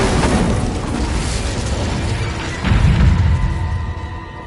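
Confringo and Incendio spell blasts in Hogwarts Legacy combat, loud fiery booms and rumbling bursts that roll continuously, with a heavier explosion swelling near the end, no talking.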